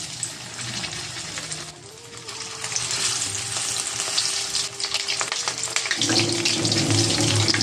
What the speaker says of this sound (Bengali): মশলা মাখিয়ে অনেকক্ষণ ধরে মাছটা রেখে দিয়ে মাছটা ভেজে নিলাম